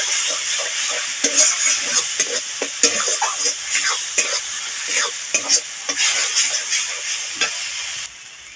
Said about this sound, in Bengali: এবার আমি তেলে দিয়ে দেবো।